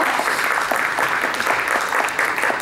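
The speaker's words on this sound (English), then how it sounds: "Once again, a big applause." Dense, steady applause from a crowd at a Eurovision press conference in Kyiv, continuous and fairly loud throughout with no gaps or speech.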